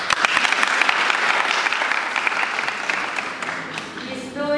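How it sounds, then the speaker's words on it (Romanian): Teachers are applauded at a 20-year school class reunion. Sustained, dense clapping from a crowd in a room fills the whole stretch and tapers slightly toward the end. "Oricum i-a aplaudat"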